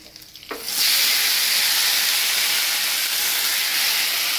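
Saag greens dropped into a hot pan over a garlic and dried red chilli tempering, giving a sharp burst and then a loud, steady, close sizzling hiss that holds without letting up.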